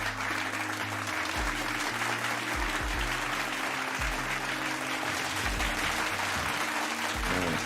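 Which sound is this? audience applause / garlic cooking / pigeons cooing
audience applause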